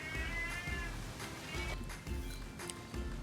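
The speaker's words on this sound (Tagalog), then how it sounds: "May pusa po kasi sumasama kay Lola" A cat following an elderly woman meows a few times in a quiet outdoor spot, the calls fairly faint and spaced out over low rumbling background noise.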